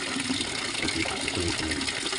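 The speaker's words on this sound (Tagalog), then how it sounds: "Kunan ko muna yung tubig. Kunan ko yung tubig. Ito sa palanggana." Water poured into a plastic basin, a continuous splashing gush with bubbling, steady and close.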